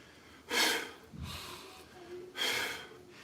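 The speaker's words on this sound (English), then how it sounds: "Inhale on the way up." Sharp breaths during an Indian clubs workout, two strong quick inhales through the nose with softer breathing between them, close and fairly quiet.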